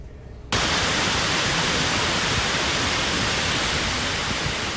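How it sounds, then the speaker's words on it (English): Hail falling on and shredding tree leaves near Salt Lake City, Utah, during a Tuesday evening severe storm: a sudden onset of dense, steady hiss-like roar that stays loud and constant throughout, with no talk. "that is the sound of hail shredding leaves as it fell near Salt Lake City Tuesday evening"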